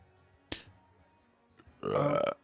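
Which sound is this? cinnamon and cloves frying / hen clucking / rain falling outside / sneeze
sneeze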